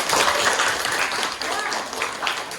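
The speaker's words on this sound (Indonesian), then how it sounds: "Aplaus untuk kalian semua." Applause from students in a classroom: a steady, dense wash of clapping that lasts throughout, fairly loud and close, with no distinct pauses.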